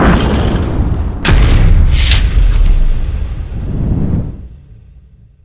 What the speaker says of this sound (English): bullets are flying over us right now